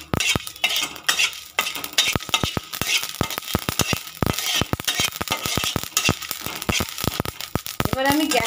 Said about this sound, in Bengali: এবারে আমি এই যে এলাচটা আর পাঁচফোড়নটাও দিয়ে দেবো। এটাও আমি শুকনো খোলায় ভাজবো।